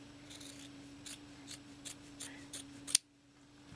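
Scissors snip through fabric while a child's corset top is cut out, a series of about seven short, crisp cuts at a steady pace, close and quiet, ending with one sharper snip.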